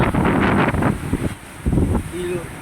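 Wind buffets the microphone and choppy waves wash on the beach at Oton, Iloilo, a rough close roar that swells and fades in gusts while someone talks over it.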